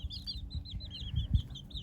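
Tiny chicks, the youngest of the brood, peep continuously in a coop, a chorus of high, thin overlapping calls over low rumbling background noise.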